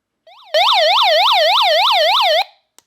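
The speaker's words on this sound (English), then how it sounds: "That you can press and it flashes the light, and it also makes an alarm sound." An iRonsnow emergency radio's SOS alarm sounds alone, loud and close: a short rising tone, then a steady wailing siren that sweeps up and down about eight times over two seconds before cutting off.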